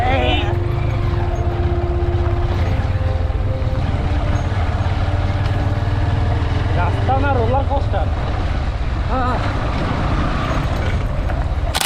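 A motorbike rides a potholed road in Patuakhali, Bangladesh, with loud continuous engine drone and wind rumble throughout and a voice talking over it.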